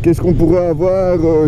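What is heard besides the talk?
None of the usual background noises is heard.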